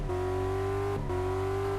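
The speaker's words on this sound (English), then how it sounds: "You should keep doing donuts" Simulated car engine in Car Mechanic Simulator 2014 doing donuts, a loud, steady droning tone held with no pauses, broken by one brief dip in pitch before it settles back.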